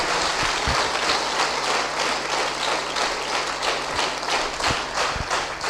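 A church congregation claps hands together in sustained, dense applause. Occasional sharper taps and thumps stand out over a steady level, with no talking.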